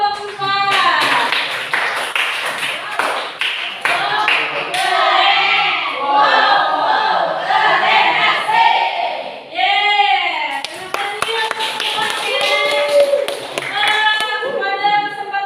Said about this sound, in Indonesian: Beri aplaus kepada kelompok 4